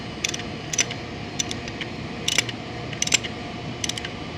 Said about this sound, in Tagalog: Higpitan na natin ngayon. Gamit yung socket rings.